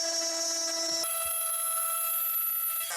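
A handheld wood trimmer routes a groove in wood, a high, steady tonal whine that shifts pitch midway as the cut changes, loud and continuous with no talking.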